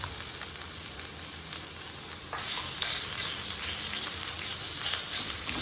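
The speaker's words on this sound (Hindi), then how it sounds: "ज़ीरे को हम 30 सेकंड के लिए फ्राई करेंगे" Cumin seeds frying in hot oil in a pan, a dense, loud, continuous sizzle with crackly bursts that intensifies partway through, no talking.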